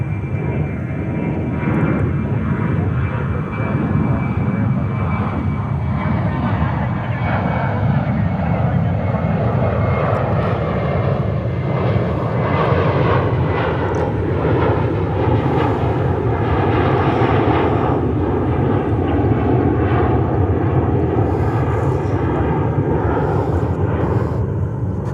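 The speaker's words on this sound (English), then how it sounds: "British 777-200 coming in from London Heathrow." A British Airways Boeing 777-200 arriving at JFK in New York produces a loud, sustained jet engine roar with shifting whining tones as it passes close by, and a voice talks over it.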